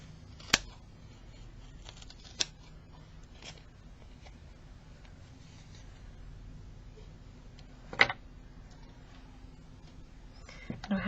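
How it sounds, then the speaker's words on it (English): Scissors trimming loose edges off a handmade holiday coaster give a few sharp, isolated snips spaced seconds apart in an otherwise quiet room. "take your scissors and just kind of"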